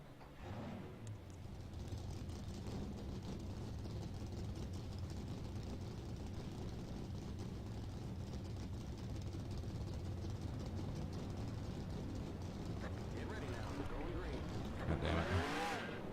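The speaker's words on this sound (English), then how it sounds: "Drivers, start your engines." Stock-car engines in NASCAR Racing 2003 at Bristol fire up and settle into a steady, loud collective rumble that holds throughout, with a brief rise near the end.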